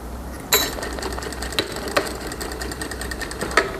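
A sewing machine stitches fabric for a small zip pouch while the handwheel is turned, giving a steady low mechanical hum broken by irregular ticking knocks of the needle, close and fairly loud.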